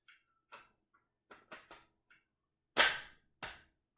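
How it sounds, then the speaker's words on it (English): A Glock slide is racked and a DryFireMag magazine is inserted: a string of short, sharp mechanical clicks and clacks, mostly light, then two louder snaps near the end, close and alone with no talk. "How you insert this magazine is you rack the slide,"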